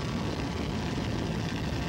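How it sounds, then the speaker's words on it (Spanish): Helicopter filming an offshore powerboat race off Fajardo, heard as a steady, dense broadband drone and rotor rumble that stays even and fairly loud throughout, with no voices. "Y ahí vemos a Tommy Hill en uno de los helicópteros de grabación"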